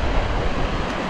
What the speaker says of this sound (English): that water's moving pretty fast